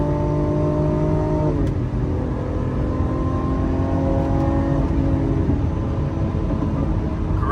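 Supercar V12 engine with a single-clutch gearbox revving hard and loud, its pitch climbing then dropping twice at gear changes before climbing again, heard close and alone.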